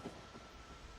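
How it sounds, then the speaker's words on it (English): A train pulls into a station in the Factorio video game, a low steady rumble of rolling rail wagons with faint clatter, heard alone without talk. "See, there's the other train."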